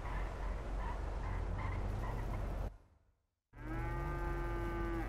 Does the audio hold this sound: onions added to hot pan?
no